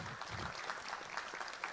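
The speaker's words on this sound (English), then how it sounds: "How about a big round of applause?" Audience applause for candidates at an all-candidates election forum in Yorkton, a soft, dense patter of clapping heard at a distance, brief and fairly even.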